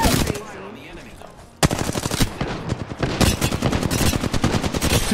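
Loud rapid automatic gunfire from the Apex Legends video game, a quieter burst early on, then sustained near, dense volleys of shots after a sharp onset, with a voice faintly under the shooting.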